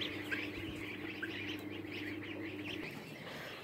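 Many young goslings peep and cheep at once in a steady, busy chorus, with a low constant hum running underneath.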